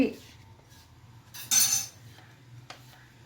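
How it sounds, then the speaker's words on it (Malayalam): Dishes and utensils clink faintly as food is moved into a bowl in a home kitchen, with one louder clattering burst midway and a small tap near the end over a low background hum. "ഇനി നമുക്ക് ഒരു ബൗളിലേക്ക് മാറ്റാം"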